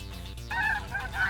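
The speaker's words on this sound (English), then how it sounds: "honk, wouldn't you know it? 3 separate geese fly up from your staff" Geese honk in a short, close burst, a couple of nasal calls standing out clearly over a faint low background.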